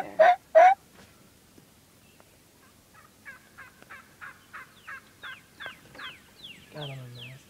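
Wild turkeys strutting in the open answer a hunter's turkey calling, with two loud near yelps at first, then a run of rapid clucking gobbles, and a final burst of gobbling close by.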